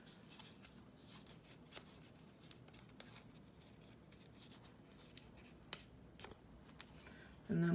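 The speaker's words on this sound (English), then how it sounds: "I just snip off this corner, just a tiny bit." Scissors snip through paper folded into quarters, trimming off a small corner for a dot mandala craft; a few faint, brief cuts and light paper rustles sound close by, with no one talking.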